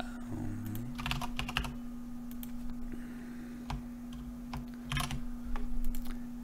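A computer keyboard is tapped in quick bursts of close, crisp key clicks with short pauses between runs as an address is typed, over a steady low electrical hum.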